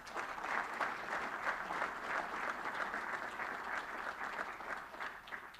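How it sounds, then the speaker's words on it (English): The audience at a mentorship programme launch gives the speakers a round of applause, a steady wash of many hands clapping, even and sustained, heard from a little distance without any talking. "a round of applause"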